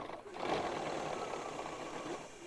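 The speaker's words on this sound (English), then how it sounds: "sewing right on that line" A sewing machine stitching across a quilt binding strip, giving a steady, fairly close mechanical whir that holds for about two seconds with no talk over it.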